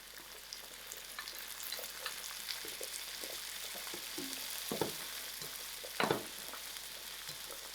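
Onions and mixed vegetables fry in a pan with a constant gentle crackling sizzle, close up, with a few louder clatters of stirring near the end.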